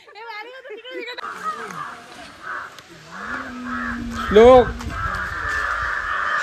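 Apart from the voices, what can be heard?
crows cawing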